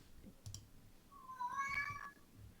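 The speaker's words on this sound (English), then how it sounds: "The cats are really yelling today." Winston the cat lets out a loud, drawn-out yowling meow close by, with soft clicking and faint keyboard typing underneath.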